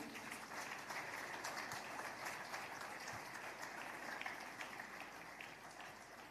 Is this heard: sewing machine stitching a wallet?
no